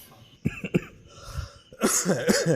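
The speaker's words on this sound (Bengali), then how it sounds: "কাশছি আমি" A person coughs a few times in short, sharp bursts at close range, followed by a louder rasping throat-clearing cough, indoors during a rainy night.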